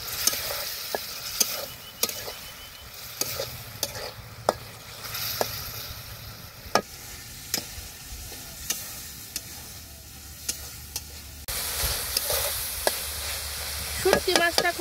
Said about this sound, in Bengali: শুটকি মাছটা খুব ভালোভাবে কষিয়ে নিছি